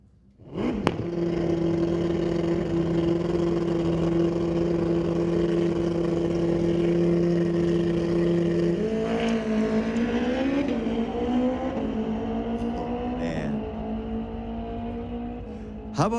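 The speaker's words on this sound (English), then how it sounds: "that motorcycle was going 132 miles an hour at the end of the bleachers" A street-legal drag racing motorcycle at Mission Raceway Park roars down the strip, its engine holding a steady high drone before climbing through rising gear pulls, loud and continuous at first, then slightly receding.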